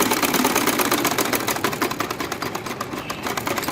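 Sewing machine stitching cord piping onto a garment neckline, a steady fast run of needle clatter held close and continuous for the whole stretch, with no voices.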